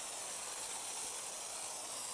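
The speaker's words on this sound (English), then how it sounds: "we'll give it a quick light spray and then a bit of an agitate" Pump sprayer misting a light spray of cleaner, a steady soft hiss held continuously, faint and close, with no talking.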